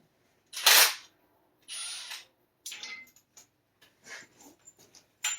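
Impact gun with socket zipping hardware off the back of an engine cart during a K-swap into an EG hatch, several short loud bursts separated by pauses, close by with no talk.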